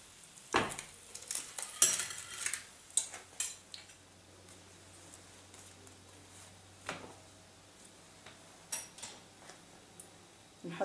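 A Tunisian brik with harissa fries in a pan of oil, giving a faint, steady sizzle broken by sharp clinks and taps of a utensil against the pan.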